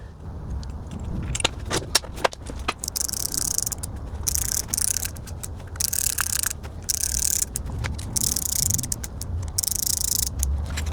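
A ratchet clicks in quick bursts while bolts are driven into a Tesla large drive unit being rebuilt for a Toyota RAV4 EV, with close metallic rattling and jangling in a workshop and brief pauses between runs.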